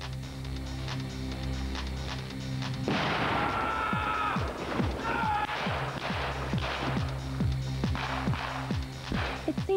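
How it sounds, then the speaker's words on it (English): A firecracker goes off during a staged military casualty drill, a sharp, loud blast followed by crackling bursts and scattered bangs over a background rumble. "and a firecracker."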